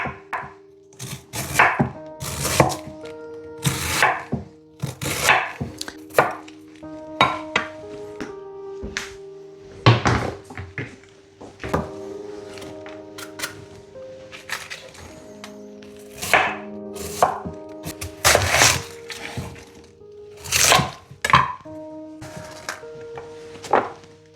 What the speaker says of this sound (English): So I'm going to cut out the core, outer leaves off